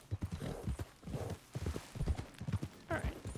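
Horse hooves clip-clop in a steady rhythm in Red Dead Redemption 2, close and fairly loud, with a brief whinny near the end.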